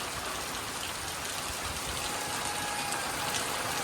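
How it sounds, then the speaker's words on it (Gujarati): Rain pours steadily over a Janmashtami village fair in Savarkundla, a dense, even hiss of falling water with no break, heard without voices. "વરસાદ આવી ગયો છે જો તો ખરી આમ જો"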